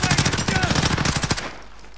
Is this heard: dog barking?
no